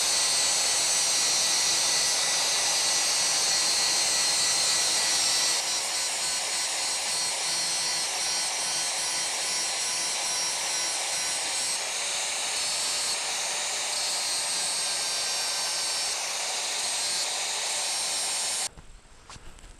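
Steady grinding of a scythe blade's anvil to thin it, a continuous bright abrasive whir held close and loud for nearly the whole stretch, then cutting off abruptly near the end.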